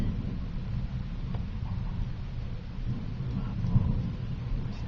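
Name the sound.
rolling thunder during a severe thunderstorm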